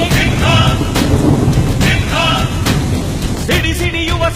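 A thunder sound effect, loud rolling rumbles broken by several sharp cracks, layered over dense, full music with no pause.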